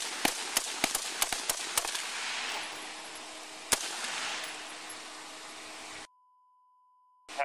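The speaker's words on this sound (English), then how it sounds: "Shots fired" Police gunfire during a standoff outside a residence, heard as a rapid volley of sharp cracks, some near and loud, over a steady noisy outdoor background. One more shot follows later, and then the sound cuts to silence.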